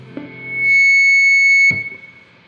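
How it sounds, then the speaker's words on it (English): Electric guitar with Gibson Custombuckers pickups through an Orange amp swells into loud sustained feedback, a piercing steady tone held for about a second before it cuts off abruptly, alone. "you're going to get feedback."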